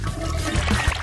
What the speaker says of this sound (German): Das Öl kommt in den Kochtopf.